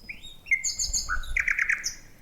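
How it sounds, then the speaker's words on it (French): A nightingale sings alone, a clear, close series of whistled notes and rapid trilled phrases with short pauses between, over a faint low rumble. "Le rossignol est petit, certes, mais il y met du cœur et son chant de cristal est d'une grande beauté."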